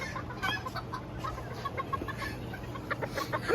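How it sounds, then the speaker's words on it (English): Small chickens, Seramas and a white Silkie, give soft, scattered clucks around a backyard pen. The clucks are mid-distance and fairly quiet over a steady outdoor hum, with no talking. "And we got our little white silky here."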